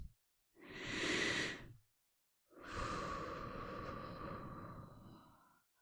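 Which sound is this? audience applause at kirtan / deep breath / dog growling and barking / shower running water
deep breath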